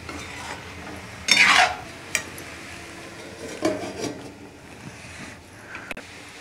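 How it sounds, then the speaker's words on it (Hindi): Spoon stirring mixed vegetables in a cooking pan: a few short scraping and clinking strokes against the pan, moderately close, with quiet gaps between them and no talking. "अब सारी सब्जियों को हम अच्छी तरह मिलाकर 2 मिनट के लिए ढक देंगे।"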